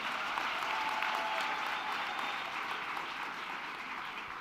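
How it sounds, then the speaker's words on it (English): An audience at a university graduation ceremony claps steadily, a dense even wash of applause from a large crowd heard at a moderate distance, with no voices over it. "So let's give them another round of applause."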